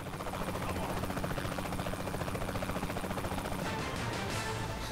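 A helicopter flies in Saints Row: The Third, its rotor a steady, dense, loud chop that fills the scene without pause, with no talk over it.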